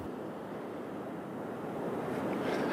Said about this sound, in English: it's just this wind gust that really gets to you and slams the sand right across your face